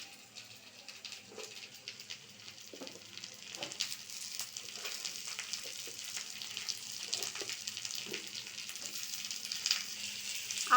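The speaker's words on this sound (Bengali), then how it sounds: "আলুগুলোকে এইভাবে লাল লাল করে ভেজে নেব।" Cut potatoes fry in a pan of oil with browned onions, giving off a steady, close sizzle broken by repeated soft scrapes as they are stirred, with no voices.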